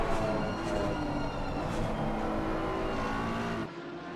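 AMG and BMW race cars in a close battle at Misano, engines droning loud and steady at high revs as they run nose to tail, the sound dropping off abruptly near the end.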